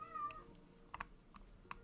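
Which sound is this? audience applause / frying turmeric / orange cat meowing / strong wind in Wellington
orange cat meowing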